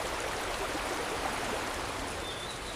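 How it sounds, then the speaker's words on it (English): A powerful waterfall in the Swiss mountains roars as a dense, even wash of rushing water, continuous and unbroken, with no voices. "a waterfall so powerful and so breathtaking that many travelers refuse to believe they are real"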